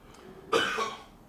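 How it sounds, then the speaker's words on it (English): One short, harsh cough close by, over a quiet background. "Don't cough, bro."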